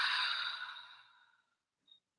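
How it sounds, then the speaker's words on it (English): A slow, breathy exhale through the nose during a guided breathing exercise, close and soft, fading out over about a second and a half, followed by a tiny click. "Exhaling, breathing out through our nose."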